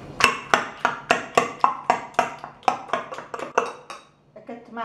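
Tomatoes and garlic being mashed in a pan for Tunisian grilled salad, a close run of a dozen or so rhythmic pounding knocks with utensil clatter, fading toward the end.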